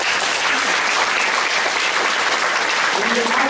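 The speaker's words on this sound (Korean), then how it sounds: "이런 감동적인 영상을 보면 박수 한번 치는 겁니다" An audience in a lecture hall claps loudly and continuously after a moving video is shown, a dense, steady burst of many hands with no break.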